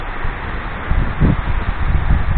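Wind gusts through forest trees on a highland trail, a steady rushing rustle of leaves and branches that swells slightly midway, with no voices.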